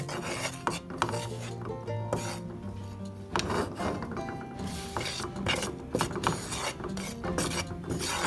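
Dried spices toasting in a pan for an Indian lentil dahl are stirred and scraped with a utensil, repeated close rasping strokes with light metallic clinks, no voices.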